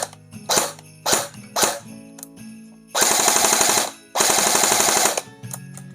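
Airsoft gun running on its original 11-volt battery, firing several short single bursts followed by two longer rapid full-auto strings of sharp mechanical cracks, loud and close.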